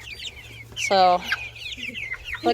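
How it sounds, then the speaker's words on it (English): A meat chicken being picked up gives a loud, close squawk and then several quick clucks and chirps, with other fowl calling faintly around it. "And grab a meat chicken. I'm going to try to grab the biggest one."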